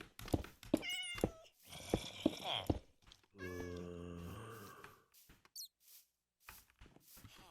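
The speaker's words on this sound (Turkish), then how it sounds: "Merhabalar kedicik." Cat meowing in the Minecraft video game: several distinct meows and drawn-out caterwauls in quick succession, close and clear, separated by short pauses and a few soft clicks.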